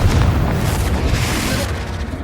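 A fiery Confringo spell explosion in the video game Hogwarts Legacy: a dense, rumbling boom that stays loud and steady across a short burst, with no talk.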